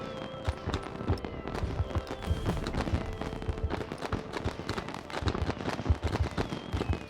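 Crackling, popping bursts of fireworks in Civilization VII, a rapid irregular patter of small bangs and fizzes continuing steadily throughout.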